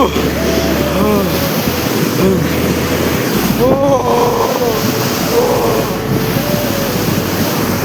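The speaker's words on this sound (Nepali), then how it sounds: "यत्रो ढुङ्गा बगाइरहेको छ होइन, यत्रो आवाज आइरहेको" A rain-swollen river roars loudly and steadily, rolling stones along, a constant rushing wash of water with wind buffeting the microphone and a voice briefly heard over it.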